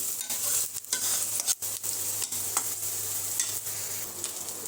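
Onions frying in a wok at the start of a fish curry, a steady close hiss of sizzling oil with a few brief scrapes and stirring knocks, no voices.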